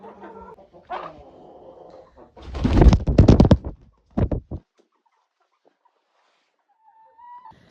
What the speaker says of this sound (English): I'm going to get all the chickens out of my horse trailer